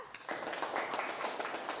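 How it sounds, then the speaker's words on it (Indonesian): A school classroom claps for a student who has just answered, a short burst of fairly faint, scattered hand claps heard from a distance. "tepuk tangan dulu untuk Rega."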